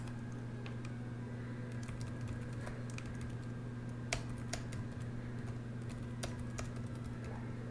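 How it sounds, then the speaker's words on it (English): Someone types on a computer keyboard, scattered light key clicks over a steady electrical hum in a quiet room. "I'm gonna type the Cash App in the chat for you guys."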